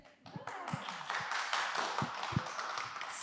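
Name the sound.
applause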